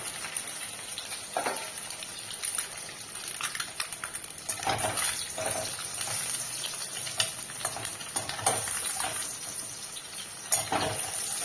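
An egg fries in hot oil with turmeric in a pan, giving a steady soft sizzle broken by scattered clinks and scrapes of a utensil against the pan.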